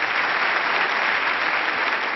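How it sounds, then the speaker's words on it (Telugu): Dense, steady applause from a live audience at a Paaduta Teeyaga singing show in the USA, filling the whole moment evenly and loudly with no break. "చూడండి ఎంత మజాగా చప్పట్లు కొడతారు ఇప్పుడు"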